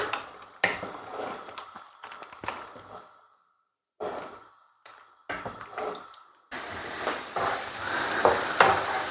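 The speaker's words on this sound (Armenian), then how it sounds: "Սոխը մարման, թող տապակվի։" Chopped onions sizzle and crackle in hot vegetable oil in a pan, with intermittent stirring bursts and brief pauses, then a sustained loud frying hiss near the end.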